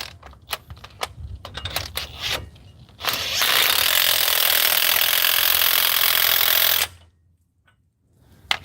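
A DeWalt brushless impact wrench tightens an axle nut during a 1997 Chevy front suspension rebuild. A few scattered clicks and taps come first, then one loud, sustained hammering burst of about four seconds, followed by near silence.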